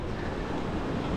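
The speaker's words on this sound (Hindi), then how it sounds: "स्ट्रङ विन्ड आइरहेको चलिरहेको छ" Strong wind blows in a steady, rough roar with no pauses, loud against the microphone outdoors in Israel during a DJI Mini 3 Pro drone flight.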